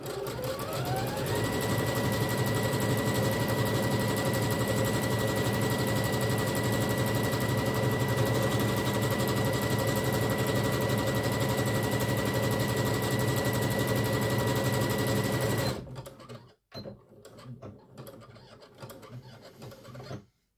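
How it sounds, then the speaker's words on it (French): A sewing machine runs a zigzag stitch over an overlocked seam with a steady, fast mechanical whir, close and unbroken for about fifteen seconds before stopping and leaving light handling noises. "Je me suis centrée pour que mon zigzag soit mieux de mon surjet."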